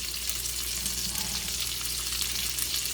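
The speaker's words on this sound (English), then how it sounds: "we're just going to take our chopped white onion, and we're just going to stick these in the frying pan as well." Chopped white onions sizzling in a frying pan, a steady close-up hiss and crackle of frying that holds at an even level throughout, with no voices.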